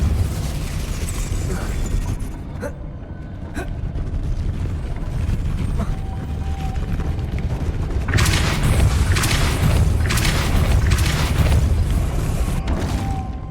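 Confringo and Repulsor spell blasts in the game Hogwarts Legacy, heard as loud booming explosions over a constant rumbling background. A few sharp cracks come early, then a denser cluster of bursting blasts follows in the second half.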